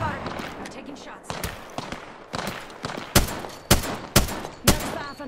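Gunfire from Apex Legends crackles in bursts of sharp shots, building to several loud, evenly spaced cracks near the end, with a player talking between them.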